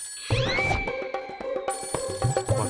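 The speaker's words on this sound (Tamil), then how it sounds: "பத்தாதுன்னு இந்த மங்கம்மா வேற ஃபோன் பண்றேன்." Telephone ringing indoors in a Tamil TV drama scene, a bright electronic ringtone with repeated rhythmic pulses and sustained tones, close and prominent with no speech.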